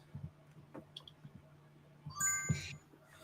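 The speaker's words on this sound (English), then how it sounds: "you hear that chime?" An electronic chime from a camera switching off and back on rings out as a short bright burst of tones, heard alone amid faint background clicks.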